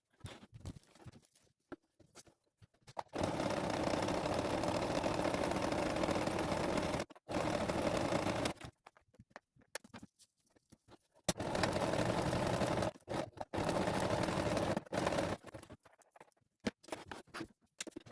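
A sewing machine stitches felt mushroom pieces and a Velcro strip onto a fabric page of a handmade busy book, running in several steady whirring bursts of a few seconds each with short pauses between them.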